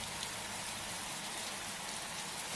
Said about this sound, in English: Rainy. Look, rain.